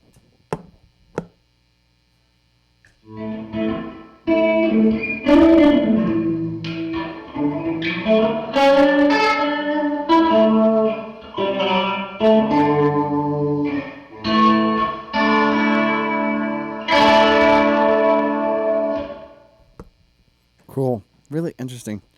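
Electric guitar through a Meris Mercury X pedal on its '79 room' reverb setting, a run of strummed and picked chords with a roomy, moderately short tail, starting after a quiet pause and ending with a few brief plucks.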